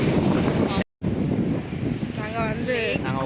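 Wind blows at Ukkadam lake in Coimbatore, buffeting the microphone in loud rumbling gusts with a brief dropout, while people talk faintly underneath.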